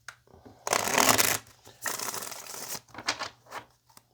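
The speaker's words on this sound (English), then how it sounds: "One more shuffle." Tarot cards are shuffled in several quick riffling bursts, close and crisp, separated by short pauses and lighter taps.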